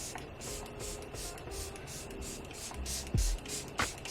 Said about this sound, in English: I really love the mist that comes out. It's really fine.